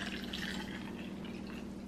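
Liquid poured steadily in a home kitchen while cooking, a continuous close trickling and splashing that runs without pause for about two seconds, with no talking.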